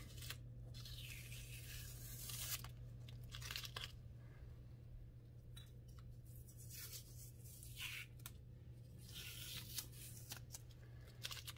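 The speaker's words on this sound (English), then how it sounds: "So when you take the tape off, you want to make sure you go really, really slowly." Crackly, crinkling tearing sounds come in slow, drawn-out bursts separated by quiet pauses as tape is peeled gradually off a charcoal drawing on paper, over a faint steady hum.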